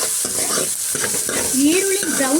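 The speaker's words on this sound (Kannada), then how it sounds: "ಈಗ ನೆಕ್ಸ್ಟ್ ಈರುಳ್ಳಿನ ಚೆನ್ನಾಗಿ ಫ್ರೈ ಮಾಡ್ಕೊಳ್ತೀನಿ." Chopped onions frying in hot oil for a green gram gravy, with a steady sizzle and stirring scrapes and a brief voice partway through.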